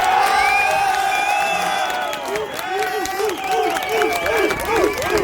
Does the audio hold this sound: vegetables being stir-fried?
no